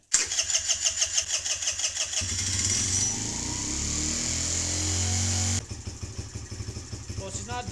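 A small Kawasaki KFX50 ATV engine revs in rapid pulsing bursts, then settles into a steady, loud idle before dropping to a rougher, lower-pitched running rhythm, close up.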